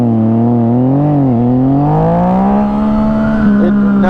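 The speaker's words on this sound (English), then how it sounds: "I'm gonna try that launch again and see if I can get it to wheelie" Yamaha FZ-09 motorcycle launching hard, a loud engine note that dips briefly and then climbs steadily in pitch as it accelerates, heard up close with no talking.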